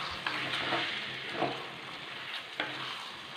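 Lemon pickle mixed with vinegar heats gently over a low flame, giving a faint, steady sizzle broken by a few soft stirring scrapes.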